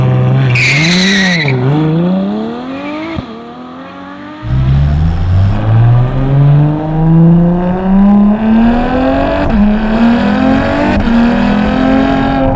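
A Ferrari F12 TDF V12 engine revs high and climbs through the gears with loud intake roar, pitch sweeping upward after a brief pause between shifts.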